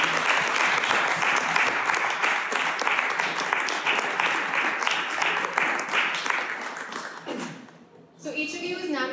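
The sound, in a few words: audience applause for honorees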